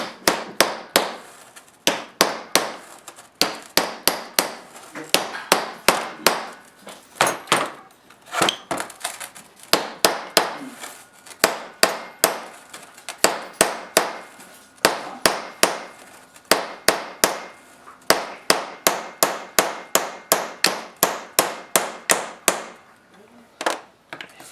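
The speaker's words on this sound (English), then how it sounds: "Just give it a couple of taps of the hammer." Repeated sharp hammer taps on Honda D16 transmission parts during a rebuild, dozens of crisp metallic strikes in quick bursts and clusters, close and clear with no talk.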